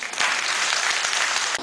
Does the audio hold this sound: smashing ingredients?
no